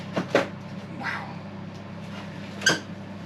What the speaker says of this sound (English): It squeaked. Did you hear it squeak then?